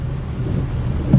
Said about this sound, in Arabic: الاجواء ممطره عاصفه رعديه